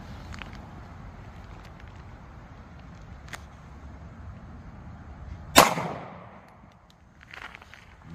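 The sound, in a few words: 9mm pistol (Shield) shot into gel, Sig V-Crown ammo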